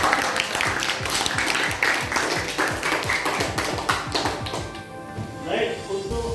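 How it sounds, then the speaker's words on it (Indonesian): Classroom applause during a mathematics lesson, many hands clapping in a dense, steady patter that fills the room for several seconds before fading slightly toward the end. "Kita kasih aplaus untuk kita semua"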